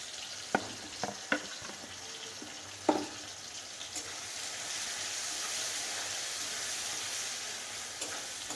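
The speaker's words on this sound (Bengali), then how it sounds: "টমেটোটাকে একটু ভাজা ভাজা করে নেব" Tomato with salt and turmeric fries in a pan, opening with a few sharp clicks of stirring before settling into a steady, close sizzle that continues to the end.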